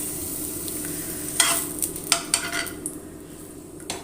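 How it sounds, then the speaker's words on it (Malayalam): Dried red chillies fry in hot coconut oil over a low steady hiss, with a run of sharp metallic clinks and scrapes from a utensil stirring the pan. "നമ്മൾ അതിലേക്ക് ആദ്യം ഒന്ന് വറ്റൽമുളക് ഇട്ട് കൊടുക്കാം"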